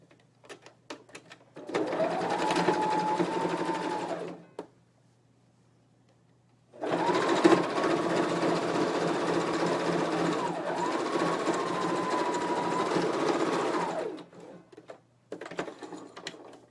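Sewing machine stitching the side seams of a bodice and the sleeve seams: two long steady whirring runs of stitching with a short pause between, then a brief restart, close and fairly loud with no talk.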